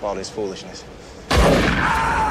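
A sudden loud gunshot blast in a film scene, with gunmen from Arliss's crew firing, arrives after a stretch of speech-like sound and then rings into a sustained, noisy roar.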